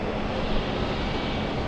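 Airplane taking off from runway 22 right, with a continuous, loud, broadband engine roar that holds steady for the whole short stretch and has no voices over it.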